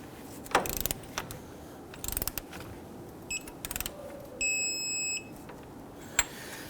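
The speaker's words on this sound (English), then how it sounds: "Let's go ahead and torque that on. We want to torque this down to 51 foot-pounds." A click-type torque wrench tightening a castle nut on a 2007-2021 Toyota Tundra steering rack: short bursts of rapid ratcheting clicks with pauses between, plus a brief electronic beep, close and fairly quiet.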